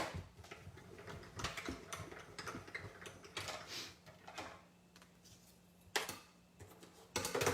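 A die-cutting machine is hand-cranked with plates passing through, giving faint, irregular mechanical clicks and ratcheting grinds with a steady low hum beneath.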